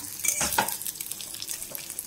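An egg fries lightly in a pan with a close, soft sizzle, broken by a few brief scrapes and clinks of a utensil against the pan.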